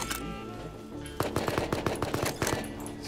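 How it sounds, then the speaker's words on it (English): Rapid automatic gunfire in the video game Rust: loud, sharp shots in quick bursts that start after a brief stretch of low background noise. "I see him drop. Kill two, Adam."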